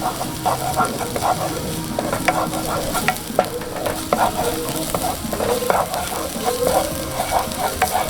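Ingredients stir-fried in a hot pan, a steady oily sizzle broken by repeated scraping strokes of a spatula against the metal, close and continuous, with no talking.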